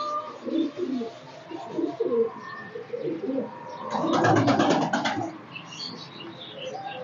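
Piplan pigeons coo softly and repeatedly at close range, with a brief flurry of chirps and fluttering in the middle.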